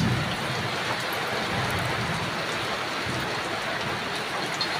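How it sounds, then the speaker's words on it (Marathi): Heavy rain pours down steadily as a dense, continuous hiss, loud and unbroken from start to finish with no voices. "काय सांगायचं एवढं भारी पाऊस"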